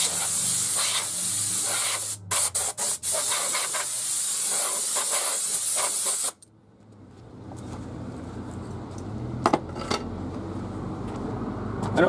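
Compressed air blasts steadily at a front brake assembly on a 1985-1994 Ford F150 4x4, a loud hissing spray broken by a few brief stops, then cutting off to quieter shop background with faint clicks.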